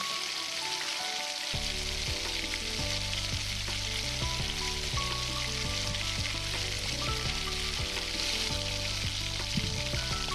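Marinated chicken with onions frying on high flame for a Bengali-style kadai chicken, a steady sizzle buried under loud continuous background music throughout.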